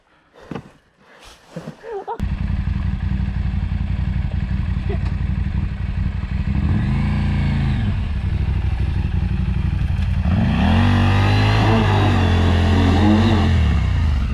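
A motorcycle engine revs steadily and loudly while the bike is pushed on ice, with the pitch rising and falling, and thuds and clatter at the start.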